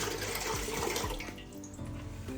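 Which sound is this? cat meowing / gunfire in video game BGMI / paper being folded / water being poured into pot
water being poured into pot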